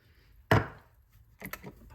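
Hazelnuts tipped into a Thermomix bowl in a home kitchen land as one loud, clattering burst, followed a moment later by a few softer rattles and knocks, with no talk over them.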